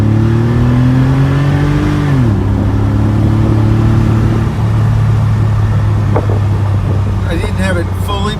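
Porsche 964 flat-six engine loud and close, holding a steady drone, then dropping pitch as it downshifts into first gear with a low whine, and rumbling on at a lower pitch.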